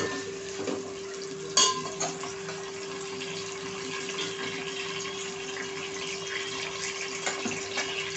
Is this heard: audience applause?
no